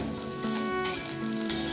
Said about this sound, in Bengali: পেঁয়াজ আর রসুনটা খুব হালকা করে আমি নেড়ে নিয়েছি।